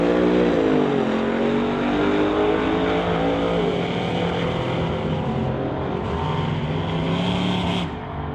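A street-legal truck rated at 2,000 horsepower roars down a drag strip, its engine holding a loud, steady high-revving drone with rising gear pulls, heard from a distance amid track noise.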